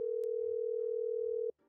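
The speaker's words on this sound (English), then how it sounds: "I'm gonna see if Rain picks up. I think I do have a phone number" A single steady telephone tone hums for about a second and a half on an outgoing call waiting for pickup, then cuts off abruptly into near silence.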